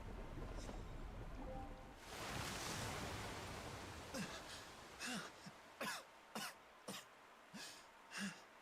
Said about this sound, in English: Could you try coughing quietly?